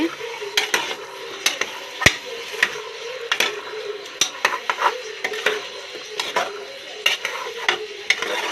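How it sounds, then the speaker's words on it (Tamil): Chicken being stirred through masala in a pan for a Tamil chicken curry, a steady run of scraping spoon strokes and clinks against the metal, with a soft sizzle underneath and no talk. "இப்போ சிக்கனை நல்லா மிக்ஸ் பண்ணிக்கலாம் மசாலாவோட சேர்த்து"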